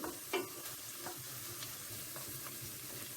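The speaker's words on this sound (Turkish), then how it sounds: "Ve tekrar kavurmaya devam ediyorum." Soft, steady sizzling of onions and tomato paste sautéing in a pan, with a few faint scraping stirs, quiet and close.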